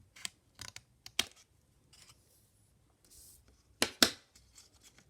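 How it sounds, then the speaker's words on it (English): Scissors snip off excess paper while a mini notebook is made by hand, giving a few sharp, close cuts in irregular bursts with quiet pauses between them and no talking. "we're going to get our scissors again. We're just going to cut off that excess."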